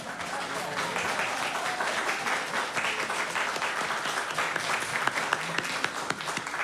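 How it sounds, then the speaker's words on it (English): A church congregation applauds new members at a Sunday service, with steady, dense clapping filling the room throughout at a moderate distance. "Let's give our new members a round of applause."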